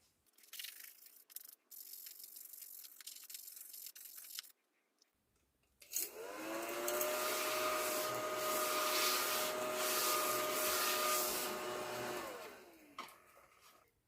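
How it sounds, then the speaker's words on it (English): A small craft vacuum switches on with a rising whine and runs as a steady, close motor drone over a sheet of paper, then spins down, following some earlier rubbing and handling noises. "the vacuum is from Amazon. So I'm going to get a dark piece of paper or something and show you how it works."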